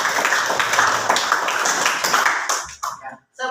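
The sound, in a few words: classroom applause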